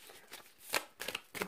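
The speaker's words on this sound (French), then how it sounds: "est-ce qu'on peut avoir une carte supplémentaire sur ce carrefour?" Oracle cards being shuffled and drawn by hand, a few quick crisp riffling bursts close up, with no talk over them.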